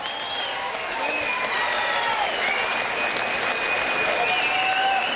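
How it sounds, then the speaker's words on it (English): Crowd applause after a light heavyweight boxing match, a steady roar of clapping close by, with sustained whistles and cheers running over it. "Give them a big round of applause."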